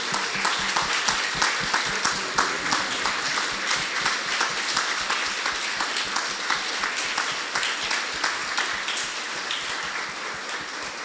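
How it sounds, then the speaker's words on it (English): A crowd applauds to honor anti-militarism activists, a steady, dense wash of clapping that holds at an even level throughout. "I want us to give them a round of applause"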